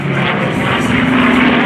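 Loud, steady roar of High Flight Mustangs aircraft rolling through a barrel roll at the 2023 AirPower Over Hampton Roads air show, a continuous engine drone with no talking.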